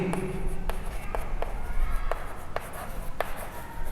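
A pen or chalk writes out a solution during a Class X maths lesson on linear equations, with quick repeated taps and scratches in a steady, close rhythm over a constant background.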